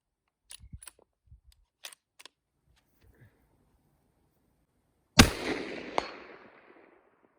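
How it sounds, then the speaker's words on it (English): A long-range hunting rifle with a large muzzle brake fires a single loud, sharp shot outdoors, its blast rolling off and decaying over about two seconds after a few faint clicks and handling noises. "There's a shot."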